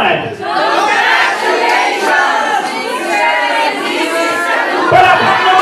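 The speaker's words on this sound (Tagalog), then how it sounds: "Sabay-sabay po natin isisigaw ang isang malakas na congratulations, Mr. and Mrs. Calubay." Wedding guests shout together in a loud, sustained group cheer of congratulations to the newlyweds, a dense crowd roar with mixed voices lasting several seconds.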